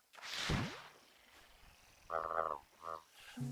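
A toad in the swampy video game Paradise Marsh gives a few short, close croaks that stand out after a quick whoosh, with no talking.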